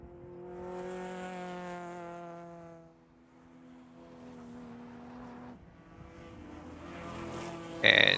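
A BMW race car in a World Racing League endurance race at Thunderhill passes on the track, its engine a loud, steady harmonic drone that dips mid-pass and then rises again, with a brief sharp burst at the end.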